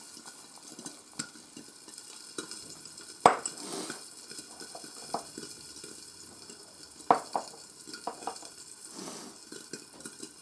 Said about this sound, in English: Then you stir the natto a bit more.